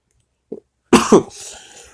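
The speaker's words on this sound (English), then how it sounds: "Sorry for coughing because I have a disease." Coughing from a person with an illness: a small throat sound, then two loud, close harsh coughs in quick succession that trail off into a rough exhale.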